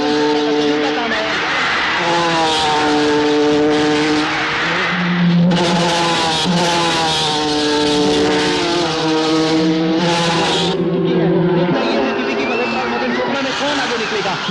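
Race cars in a film race scene speed along and overtake one another, with loud, sustained high engine whines rising and falling in pitch as the cars pass, under continuous excited commentary.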